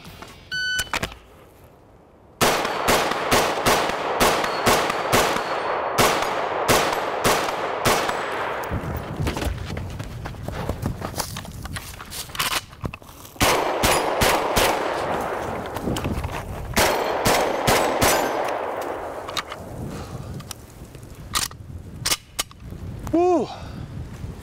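A rifle fires rapid strings of close, loud shots at steel plates, each crack followed by a ringing metallic hit, with pauses between bursts during a timed competition stage.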